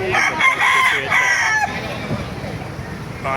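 Roosters crowing at a chicken market in Baliuag, Bulacan, with a loud near crow and overlapping calls that fade into a busy, murmuring market background.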